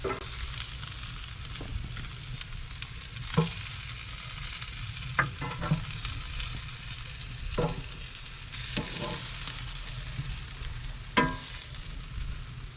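Chicken sizzles steadily on a Big Green Egg grill, a continuous crackling hiss with a few sharper pops scattered through it and no talking.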